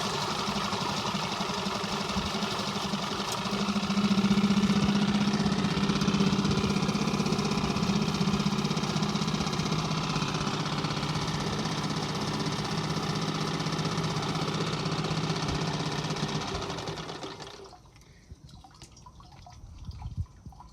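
A Coleman 5 hp outboard boat motor runs steadily with a buzzing drone and watery splashing, swelling a little early on, then cuts off near the end, leaving quiet with a brief knock.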